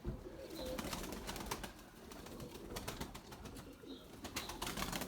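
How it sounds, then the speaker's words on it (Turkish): A white pigeon chick in a coop flaps its wings in quick soft fluttering bursts, with pigeons cooing faintly nearby amid a low background hiss. "Bakın yavruyu görüyor musunuz kanat sesini?"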